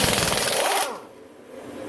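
A Harbor Freight Earthquake XT stubby air impact wrench, set to reverse at medium torque, hammers loudly for nearly a second while loosening a fastener, then cuts off into a quiet hiss.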